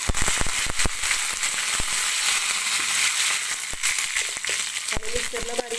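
Curry leaves hit hot oil with cumin and mustard seeds for a South Indian urad dal and rice breakfast, bursting into a loud, dense, continuous sputter and crackle with frequent sharp snaps throughout.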